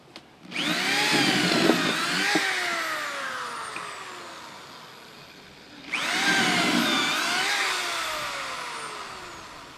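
A power drill bores a hole into wood with a whining, high-pitched motor. It runs in two long bursts separated by a brief dip, and the bit audibly slows and speeds up under load.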